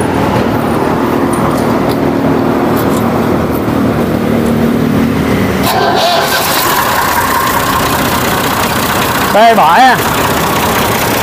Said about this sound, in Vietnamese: Ủa, cái này lắc máy nổ rồi.